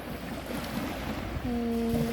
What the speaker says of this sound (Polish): że pewnie słychać szum fal